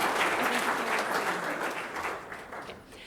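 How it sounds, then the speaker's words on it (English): An audience applauds nominees at an award presentation, steady dense clapping filling the room and slowly tapering toward the end. "One more round of applause for our nominees and Nathan."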